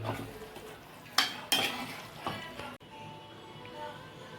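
Chicken is stirred in a pan with a spoon, giving a few sharp scraping clinks and soft shuffling over a low sizzle, the sounds spaced unevenly and fading to quieter frying at the end.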